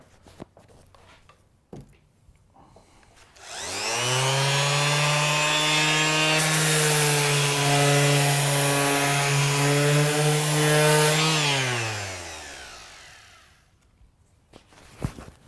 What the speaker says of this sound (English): The mouse sander or detail sander is best for that.